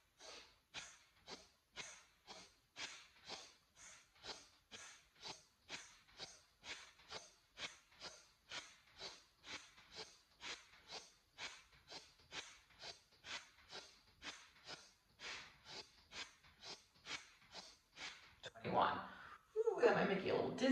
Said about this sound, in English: Inhale through the nose, looking to the left,